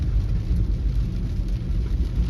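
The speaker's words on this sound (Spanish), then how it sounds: "Está lloviendo con ganas." Heavy rain drums around a car driving through flooded city streets, a dense low roar of rain and road rumble with no talk.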